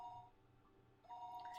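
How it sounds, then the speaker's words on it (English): A telephone rings faintly in a visual novel scene, with a pair of steady electronic tones that break off and then resume over a low background hum. "It was then that I noticed that the phone was ringing."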